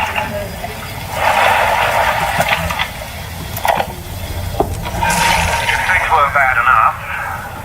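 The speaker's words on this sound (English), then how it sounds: "Even our water system's run a leak." Running, splashing water from a leaking irrigation system in the underwater city of BioShock, a steady rushing spray that swells and fades over several seconds, with game ambience and brief clanks.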